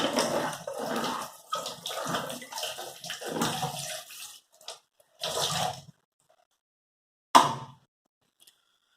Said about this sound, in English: Now, okay, I'm just washing up.